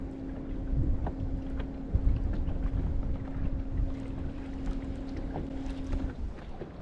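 Strong wind buffets a small fishing boat on open water, a steady broadband roar with gusty low-frequency rumble and microphone buffeting, plus a faint constant engine-like hum underneath, sustained throughout without speech.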